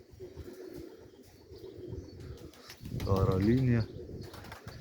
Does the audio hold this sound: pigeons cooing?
yes